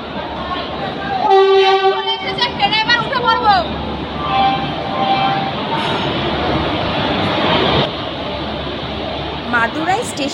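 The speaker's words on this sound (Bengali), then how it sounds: "মাদুরাই স্টেশনে 3 নম্বর প্ল্যাটফর্মে ট্রেন দিয়ে দিয়েছে 12666 কেপ হাওড়া সুপারফাস্ট এক্সপ্রেস।" Indian Railways train 12666 Howrah Superfast Express arriving at platform 3 of Madurai station, with a sustained horn blast near the start, rumbling wheels and steady station din, with people talking throughout.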